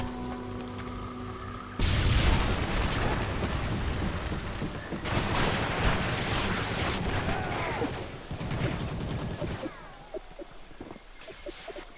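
A Predator missile strike in Modern Warfare 3 lands amid heavy gunfire, with dense, roaring blasts and rumbling rolling on for several seconds, loud and close, broken by brief quieter gaps.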